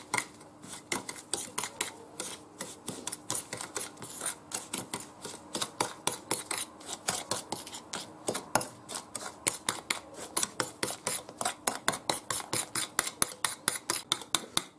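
Custard mixture being whisked with sugar in a bowl, a fast steady run of sharp metallic whisk clicks and scrapes against the bowl, close and continuous.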